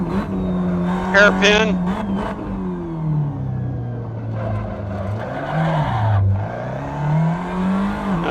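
A 2010 Tatuus FA01 race car in the Assetto Corsa game, held at full throttle through fifth gear, with a loud, steady engine note that dips and rises, some tire squeal, and someone talking over it.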